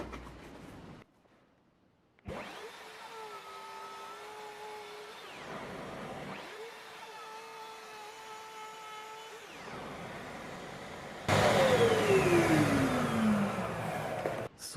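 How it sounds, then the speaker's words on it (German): Bosch router running on a guide rail, milling a two-pass, 5 mm deep groove into MDF: two steady whining cutting passes separated by brief spin-downs, then a louder burst with a falling whine at the end. "So, jetzt habe ich hier die Nut gefräst in 2 Stufen und bin jetzt da auf die 5 mm Tiefe gekommen."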